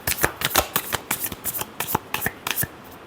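Tarot cards riffle-shuffled by hand in quick, crisp bursts, about a dozen close, dry flutters over a few seconds with no voice.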